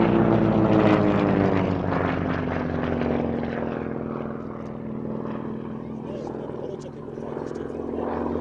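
A P-56 two-seat training aircraft flies past at an air show, its propeller engine droning loudly and steadily throughout with a slowly shifting pitch, while voices talk over it.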